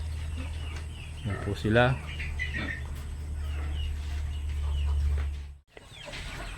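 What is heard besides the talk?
chickens clucking at feeding time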